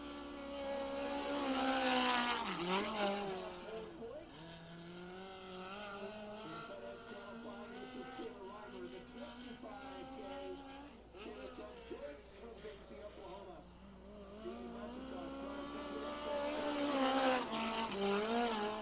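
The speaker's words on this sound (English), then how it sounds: "Next car on track, taking time." A USAC National Midget race car laps the track, its engine note rising and falling as it passes, loudest at the start and end, under continuous commentary.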